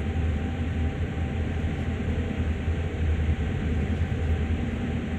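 Train rumbling steadily along the track in Train Sim World, a continuous low rolling drone with faint mechanical clatter, close and even throughout, no voices.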